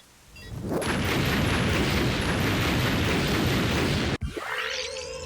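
A bomb detonates in the video game Rain Code after a timer error, a loud sustained roaring explosion that fills about four seconds, cuts off sharply, then gives way to a quieter whooshing tail.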